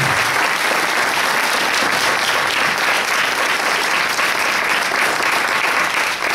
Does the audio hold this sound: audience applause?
yes